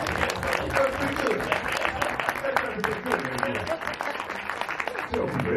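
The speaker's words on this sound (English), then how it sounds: "Let's have a huge round of applause, please, for Eddie Murphy and Richard Craig Brewer." A panel audience gives a big, sustained round of applause for Eddie Murphy and Richard Craig Brewer, dense continuous clapping with some crowd murmur, loud and even from start to finish.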